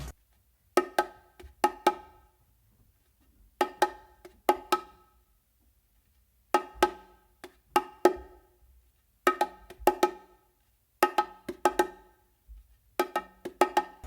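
A steady bongo pattern of crisp hand strikes starting with two opens on the macho, the smaller drum, grouped in repeating clusters with short pauses between, played alone and close.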